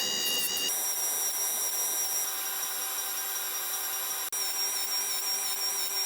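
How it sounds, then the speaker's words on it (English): Surface grinder working a large flat steel plate, a steady high whine with many tonal harmonics running continuously and fairly loud, with a brief dropout near the end. "I'm going to take it over to the surface grinder"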